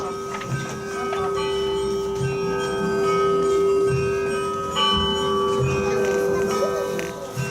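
Church bells ring with a sustained, resonant hum, individual strikes sounding every second or so in a full, reverberant wash.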